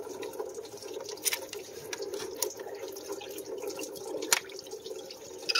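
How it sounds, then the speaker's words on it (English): Coolant from a leaking thermostat on a 7.3 Powerstroke diesel patters and drips steadily, with scattered sharp drops and splashes standing out against a low background hum. "I'm losing some coolant there."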